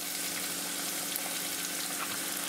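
Bengali-style pumpkin curry (chal kumror dalna) sizzles and crackles steadily in a pan while being sautéed with coriander powder, a close, even frying hiss with no voices.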